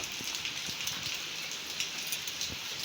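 Heavy monsoon rain pouring steadily outdoors, with a dense, continuous hiss of falling water and scattered louder drips and splashes on nearby surfaces, no voices.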